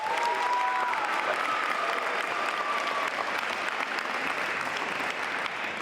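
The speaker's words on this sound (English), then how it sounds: "I think we should give him a big round of applause." A cross-country team's end-of-season gathering applauds its head coach, dense sustained clapping from a sizable crowd, loud and close, holding steady throughout.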